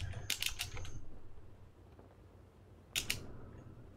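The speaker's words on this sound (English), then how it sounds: "Typing up here." Keyboard typing at a computer during a World of Tanks live stream: two short, quiet bursts of rapid clicking, one near the start and one near the end, with soft room noise between them.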